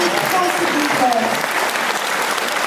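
Audience applause at a public meeting with a Pixar director in Paris, a dense sustained clapping from a crowd with a voice talking over it.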